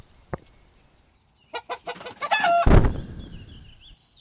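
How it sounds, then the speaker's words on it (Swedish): A hen gives one soft peep, then after a pause a run of quick clucks that build into a loud, close squawk before trailing off. "Hönan äter larven."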